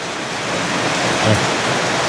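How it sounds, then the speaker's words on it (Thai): Steady, heavy rain hisses continuously, a dense wash of close, loud downpour with no voices. "ฝนตกแท้"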